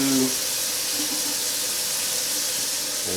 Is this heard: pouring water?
yes